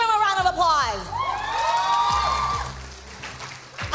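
An esports crowd at a game finish bursts into loud cheering, whooping and shouting mixed with applause, with high excited yells early on before the roar slowly fades.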